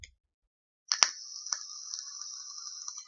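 Sub-ohm vape tank during a drag: a sudden crackle onset followed by a steady, close hiss and sizzle with small pops, lasting a couple of seconds after a short silence.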